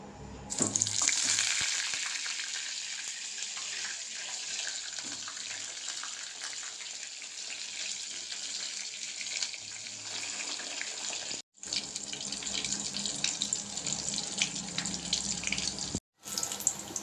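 Stuffed bitter gourd (pavakkai) sizzles in hot oil with a loud, steady frying hiss that runs throughout, broken only by two brief silent gaps; no one speaks.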